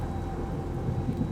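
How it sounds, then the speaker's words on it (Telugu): A storm sound effect in an animated children's story: a low, continuous rumble of thunder with a rain-like hiss, fairly loud and steady, with no voices over it. "ఒకరోజు ఉదయం మేఘాలు గర్జించే శబ్దం విని అడవిలో ఉన్న వాళ్ళకి జంతువులకి మెలకు వచ్చింది"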